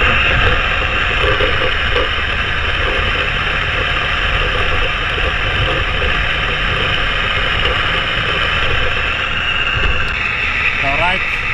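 A BMW M5 F10 drives in gear at low revs, around 2,000 to 2,500 RPM, giving a loud, steady, droning engine hum with constant low rumble that barely changes across the stretch.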